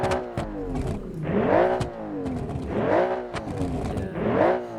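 A synthetic-sounding video game engine of a naturally aspirated, Porsche 911-inspired Group B rally car revs up and down in repeated rising sweeps, a steady whine that surges about three times in a few seconds.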